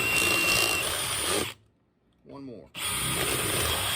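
A power drill with a 3/8 bit bores holes for tomato cuttings. Loud, steady whirring runs for about 1.5 seconds, stops while a voice speaks briefly, then starts up again at full volume.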